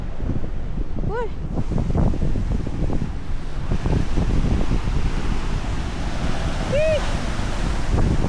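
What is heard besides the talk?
strong ocean waves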